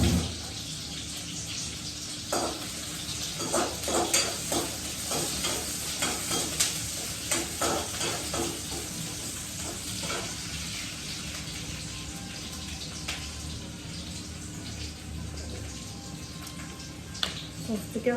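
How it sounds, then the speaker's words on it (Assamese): Vegetables sizzling and frying in a pan with a little tomato sauce, a steady hiss throughout with repeated scraping and stirring clatters at a close, even level. "অকল টমেটো চচ আছে, তাৰে অকণমান দি ভাজোঁ"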